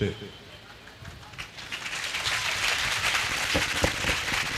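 Applause and clapping from a school conclave audience, a dense broadband patter that swells from about 1.5 seconds and stays steady to the end, with scattered sharper claps and faint voices mixed in.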